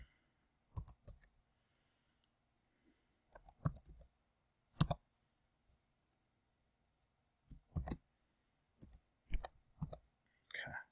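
Quiet, sparse clicks of a computer keyboard as a password is typed, falling in short irregular bursts with pauses between, close and faint in a still room.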